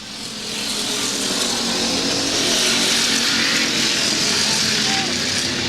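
Stock cars race around a speedway in a loud, continuous engine roar that swells in over the first second and holds steady, with a commentator's voice faintly underneath.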